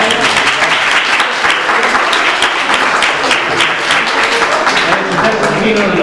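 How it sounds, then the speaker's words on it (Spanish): An audience breaks into sustained, dense applause with steady clapping that fills the room from start to finish. "Los invito entonces, un aplauso"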